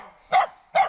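Dogs at a partly abandoned farmstead give two short, sharp barks about half a second apart. The barks are close and loud, and no one talks.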